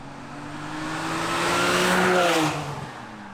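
A supercharged 550 bhp BMW E46 M3 built for drifting passes by with its engine and exhaust revving, a steady raspy, metallic drone that swells loudly as it nears and then fades away, with no voices.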